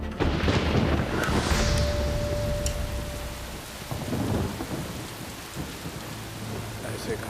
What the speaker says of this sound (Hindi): उस दिन जोर की बारिश हो रही थी।